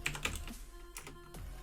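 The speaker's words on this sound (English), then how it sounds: "we're just going to type" Computer keyboard typing: a short burst of quick, crisp key clicks, close and fairly quiet, with no talking.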